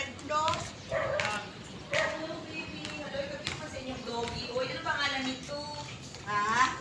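A small dog barks and yips several times in short bursts, close by, while people talk over it.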